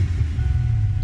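A 1988 Ford Mustang Foxbody engine with vacuum leaks and idle trouble, running as a steady, loud low rumble close by, with no speech.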